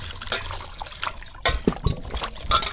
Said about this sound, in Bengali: এখন জল দিয়ে এটা দইয়া পরিষ্কার করলাম।